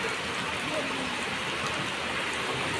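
Heavy rain pours down near a family home, a dense, continuous hiss of drops striking surfaces, loud and close, with no pauses across the stretch.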